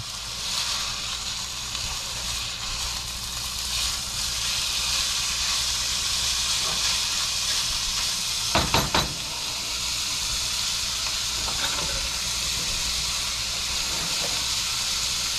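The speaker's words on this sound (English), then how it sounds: "You hear that sizzle, you know it's cooking pretty good." Steady, close sizzling hiss of ground beef frying in a pan runs throughout, broken by a brief clatter about halfway through.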